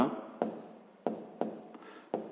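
A pen writing out a math solution on paper, a series of quick scratchy strokes with about five distinct onsets, close and fairly quiet in a still room.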